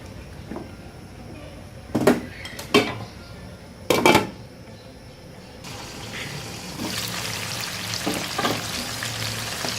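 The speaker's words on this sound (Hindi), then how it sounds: "तेल में फ्राई करेंगे।" Tomatoes fry in oil in a pan for achar gosht. The steady sizzle is broken early by a few sharp utensil clinks and grows into a louder, brighter hiss in the second half.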